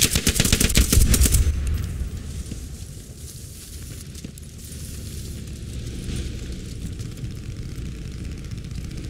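Bursts of machine gun fire crackle in the Squad 44 war game, loudest and densest in the opening seconds, then fading into a steady rumble of battle noise and engine drone.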